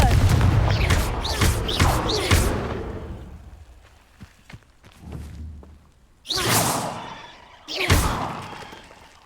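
Confringo blasting spell fired in Hogwarts Legacy, a burst of sharp whooshing blasts and thuds early on that trail off, then two more loud separate explosive impacts later, with brief faint sounds between.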